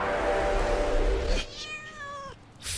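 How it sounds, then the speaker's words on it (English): A cat lets out a drawn-out, wavering meow, preceded by a loud rumbling noise, then falls briefly quiet before another sound rises at the end. "Fucking cat!"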